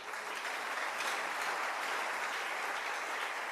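A church congregation cheers and applauds in a steady, dense wash of clapping and voices that holds at full strength throughout, with no distinct speech.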